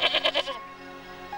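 A goat gives four quick, loud bleats in a rapid burst, followed by a quieter fading tail; no one speaks over it.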